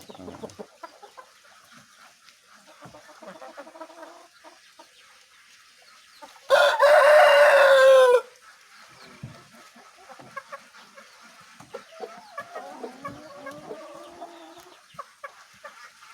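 Village chickens on a farm: a loud, close rooster crow rings out for about two seconds amid steady hen clucking and scattered fowl calls throughout.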